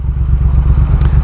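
A Triumph Thruxton R motorcycle engine running close and loud, a deep throbbing idle with a rapid, even low-end pulse and faint mechanical clatter, no voices.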